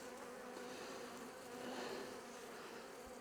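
Swarm of honeybees buzzing steadily around a plastic beehive during a swarm transfer, a dense, continuous hum close by that holds even in level throughout.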